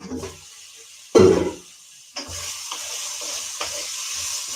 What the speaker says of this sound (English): So give it another quick stir.